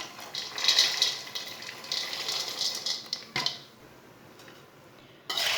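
Roasted chickpeas for panjiri laddu tumble into a metal pan with a bright scraping and clattering rush that lasts a few seconds, then near silence, then a sharp clink at the end.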